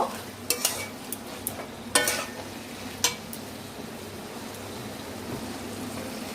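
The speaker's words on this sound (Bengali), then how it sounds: "চিনিটাকে মিশিয়ে নেব।" A spoon stirs sugar into a mixed vegetable curry with pui shak in a pan, scraping with a few sharp clinks early on over a steady low sizzle, fairly close and moderately loud, with no talk.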